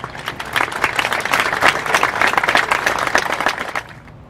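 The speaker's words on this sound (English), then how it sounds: "a round of applause." Audience applause at an Assyrian Martyrs Day commemoration in Los Angeles, steady dense clapping from a crowd for about four seconds before fading out.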